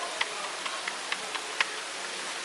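Light rain drizzles over Disney's Animal Kingdom theme park: a soft, steady hiss with a few sharp drop ticks scattered throughout, quiet and without talk.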